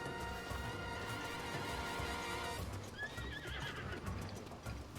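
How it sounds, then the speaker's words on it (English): Horse in a Zelda video game neighing and whinnying loudly over rhythmic clip-clop hoofbeats, close and continuous with no talking. "Oh no, I wanted the horse."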